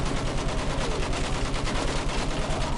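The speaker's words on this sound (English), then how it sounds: "Use that machine gun. Mow them down." Sustained machine gun fire in Battlefield 1 sounds as a rapid, steady stream of loud, close shots that keeps going through the whole clip with even pulsing, and no one talks.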